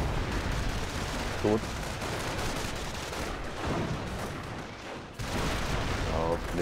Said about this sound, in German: Hier kommt jetzt die Brandgranate.